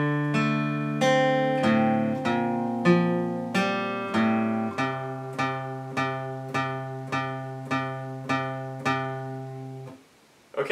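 Guitar picks a song's pattern, a slow, even sequence of about a dozen clear plucked notes and chords, each ringing and decaying before the next, played close and alone.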